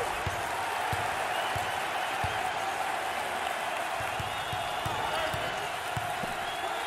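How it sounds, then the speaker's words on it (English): A basketball arena crowd cheers and applauds for player number 30 at the Mountain West championship game, Boise State versus Colorado State, a steady, loud roar with faint rhythmic thumps of a bouncing ball beneath it. "Number 30 is receiving enthusiastic response from the crowd"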